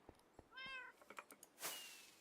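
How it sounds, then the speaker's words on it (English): A Minecraft cat meows in a few short, clear calls, including one drawn-out harmonic meow, mixed with small clicks and a brief hissy burst near the end, all faint and close. "Apparently there's a cat in here now."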